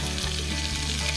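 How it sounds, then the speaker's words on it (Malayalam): Onions and green chilies sauté in hot oil, giving a close, steady sizzle and crackle that fills the short moment. "ഉള്ളിയും പച്ചമുളകുമാണ് നമ്മളിപ്പം അതിലേക്ക് എണ്ണയിലിട്ട് വഴറ്റിയെടുക്കുന്നത്"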